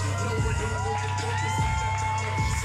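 Wrestling crowd at a Hybrid Experience show cheering and shouting after a match, a dense continuous roar with whoops and scattered yells, loud and sustained from start to finish.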